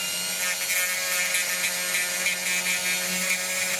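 A small handheld power sander buzzes steadily as it smooths the rough edge off a plastic pipe coupling. The motor whine is continuous and close, with no talk over it.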